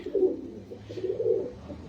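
Pigeons coo in low, soft, throaty bursts, two rolling phrases close by in an otherwise quiet setting.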